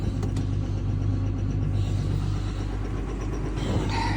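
A small tractor engine runs close by in a rural yard, a steady low rumble and drone continuing without a break from start to finish.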